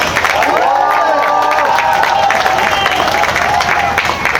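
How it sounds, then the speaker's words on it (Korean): A crowd at a county governor candidate's campaign launch rally at a bus terminal claps and cheers, a loud, busy roar of hands with voices rising through it and a high tonal sound threading over the top. "박수 한번 쳐주십시오"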